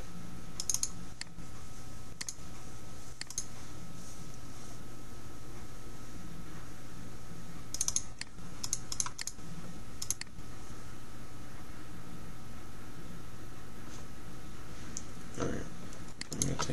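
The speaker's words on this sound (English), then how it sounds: "I'm going to type in YouTube logo" Typing on a computer keyboard, heard as scattered bursts of close key clicks with long quiet gaps and a faint steady hiss beneath, and no voices.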